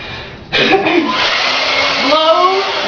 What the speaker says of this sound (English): blow dry it. You want it to dry